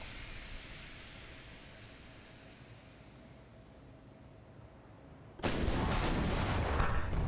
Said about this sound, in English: they're just blasting away at each other doing partial penetration